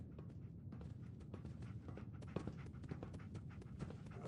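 In the Fallout 4 video game, the dog companion pants in quick, even breaths close by, mixed with soft scuffing paw steps.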